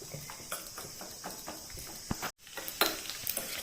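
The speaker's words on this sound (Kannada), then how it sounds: "ಅದನ್ನೀಗ ತುಪ್ಪದಲ್ಲಿ ಹಾಕಿ ಚೆನ್ನಾಗಿ ಫ್ರೈ ಮಾಡುವ" Chopped coconut fries in ghee over a medium flame, giving a steady soft sizzle with light scraping and stirring clicks throughout.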